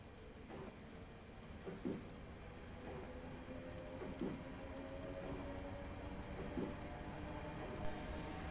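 A Class 321 electric train departing Braintree in Train Simulator 2015, a steady low rumbling drone with a rising motor whine and periodic rhythmic clacks from the rails, continuous and moderately loud.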